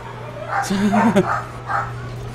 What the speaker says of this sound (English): Now my dogs are going crazy.